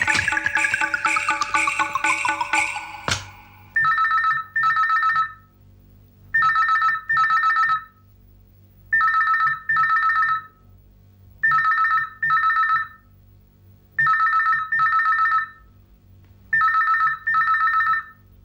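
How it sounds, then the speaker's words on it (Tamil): Old-style telephone bell ringing loudly indoors in a Tamil comedy scene, starting with a dense metallic jangle, then repeating in steady double-burst rings with short pauses, alone without talk. "போன் பெல் அடிக்கிறதே கொஞ்சம் எடுக்க கூடாதா?"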